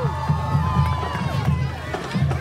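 A crowd cheers and shouts along a Christmas parade route in Colonial Heights, Virginia, as the middle school cheerleaders pass, with voices and whoops mixed close to the microphone.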